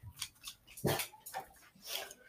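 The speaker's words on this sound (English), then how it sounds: "She's a bull mastiff." A bull mastiff gives a few short barks, then a louder, deeper bark near the middle, with lighter yelps and some clatter in between, close and fairly quiet.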